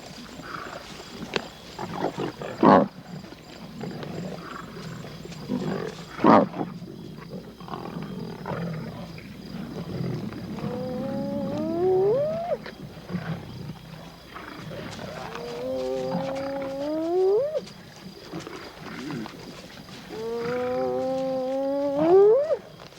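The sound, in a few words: pride of lions feeding on a carcass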